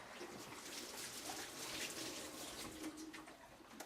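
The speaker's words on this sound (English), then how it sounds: "let me just rinse my fingers" Water from a kitchen sink tap runs steadily over fingers being rinsed while baking a cheesecake at home, a constant soft splashing hiss, close and unbroken, with no talk.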